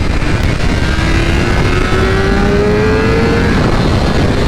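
A 2023 BMW S1000RR sport bike with a BT Moto flash-tuned ECU accelerates hard: a loud, steady high-revving engine scream climbs smoothly in pitch, heard up close with no talking.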